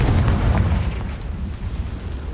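A Confringo blasting spell bursts in the Hogwarts Legacy video game, a dense, loud low-frequency blast with continuous rumbling throughout the short moment.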